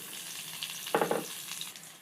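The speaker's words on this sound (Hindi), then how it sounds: "देखिए तड़का भी हुआ नहीं रेडी कि इतनी अच्छी इसमें खुशबू आने लगी है" A tadka of red chilies, a pinch of asafoetida, garlic cloves and onion sizzles in hot oil, with a quiet, steady frying hiss and a sudden louder crackling burst partway through as ingredients hit the pan.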